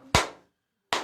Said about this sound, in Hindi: ताली से मारेंगे